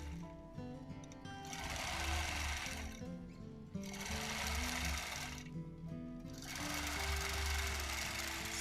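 A sewing machine quilting a crosshatch pattern with ruler work runs in three long, steady bursts, its buzzing hum pausing briefly between each run.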